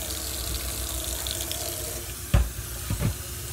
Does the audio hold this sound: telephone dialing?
no